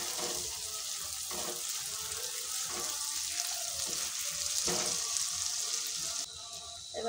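A spoonful of butter sizzles and fries in hot oil in a pan over low gas heat, a steady close hiss for several seconds with faint stirring.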